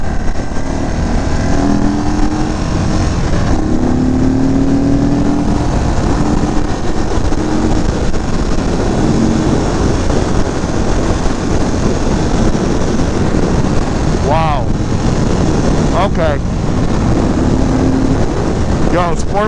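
A 2022 Indian Chief motorcycle pulls hard in sport mode through Arizona canyons, its engine roaring steadily and close under heavy wind rush, with a few brief sharp chirps breaking through near the end.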